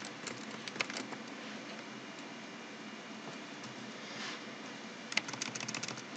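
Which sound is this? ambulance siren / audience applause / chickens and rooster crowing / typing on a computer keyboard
typing on a computer keyboard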